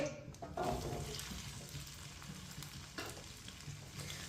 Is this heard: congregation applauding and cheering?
no